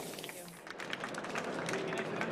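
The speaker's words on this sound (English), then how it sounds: "round of applause please for Elena" Conference audience at an e-commerce innovation stage gives a round of applause for a speaker: a faint, distant, steady patter of clapping that builds slightly, with a voice speaking over it.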